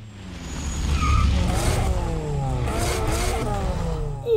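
A BMW M3 E46 engine revs in Need for Speed: Most Wanted, climbing and dropping in pitch through several gear-like sweeps, loud and close, with a short burst at the end and no talk.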